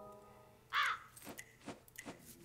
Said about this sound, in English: There's a crow there, I'll take that hint.